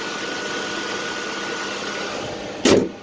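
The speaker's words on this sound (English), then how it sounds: "Engine runs nice and smooth." A car engine idles smoothly and evenly, a steady low rumble throughout, close and fairly loud, with a short sharp click or knock near the end.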